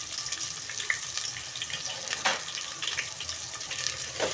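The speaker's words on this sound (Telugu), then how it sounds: "ఆయిల్ హీట్ అయింది కదా, ఇప్పుడు ఇందులో కట్ చేసి పెట్టుకున్న ఆనియన్స్ని పచ్చిమిరపకాయలు యాడ్ చేసుకోవాలి" Chopped onions and green chillies frying in hot oil in a pan for mutton curry, a steady close sizzle with a few louder spits and bursts of crackle, no voices.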